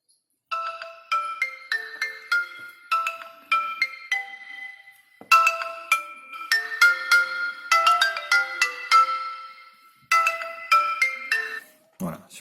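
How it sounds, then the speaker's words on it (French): A Bluboo S8 smartphone plays its notification tones in a quiet room: a series of bright, bell-like chimes in quick melodic runs that pause and repeat several times, clear and close. "Donc notification son, on va essayer le son."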